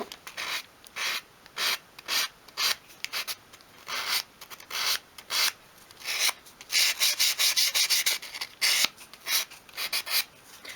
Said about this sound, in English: I'm just going to start sanding away the top layer of paint.